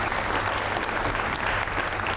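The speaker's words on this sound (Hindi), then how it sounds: "आप जोरदार तालियां हो जाए पहले तो बाबा जी के लिए" Loud, steady applause from an audience honoring Baba Ramdev, a dense continuous roar of clapping with no break and no talk.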